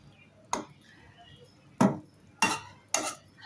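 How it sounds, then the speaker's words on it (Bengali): Spices being stirred into a pot of mola fish, potato and gourd peel, heard as four separate scraping knocks of a spoon against the pot, spaced unevenly and close, with no talk. "মশলাটা দিয়ে একটু নেড়ে চেড়ে দিচ্ছি।"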